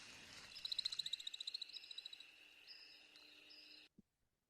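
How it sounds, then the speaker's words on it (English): American woodcock wings twittering during a nocturnal courtship flight, a rapid series of high, thin pulsing chirps that speed up and fade, then a clear steady whistle before sudden silence, faint and distant. "the American woodcock did evolve to actually make a noise when it is flying"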